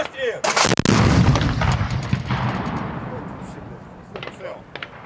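A heavy S-60 anti-aircraft gun fires with a loud, sharp boom at the start, followed by a long rumbling echo that slowly fades outdoors.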